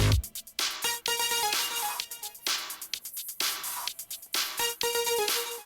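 Opening of a house track, with punchy drum hits and stabbing synth tones that stop and start in a choppy, rhythmic pattern, fairly quiet and with no voices.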